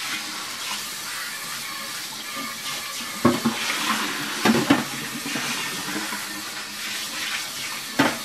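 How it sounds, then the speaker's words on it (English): A giant pan being washed under running water from a tap, a steady loud rush of water with occasional clunks and splashes as the pan is handled. "Gotta wash my giant pan first."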